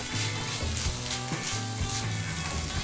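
Raw tomato curry sizzles steadily in a pan on the stove while a utensil stirs it, giving a continuous close frying hiss with soft scraping, and no voices.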